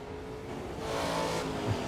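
A steady racing car engine drone in the video game Automobilista 2, loud and continuous, swelling slightly in the middle with a smooth mechanical roar and no voices.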